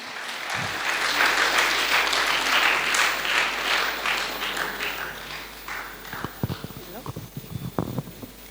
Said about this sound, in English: May I have a big round of applause to our next speaker, Ms. Lavanya Patnala